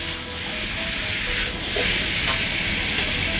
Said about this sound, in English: Add and stir together.